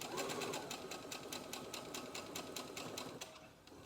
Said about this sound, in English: I'm going to sew my needle right up to that finger press line.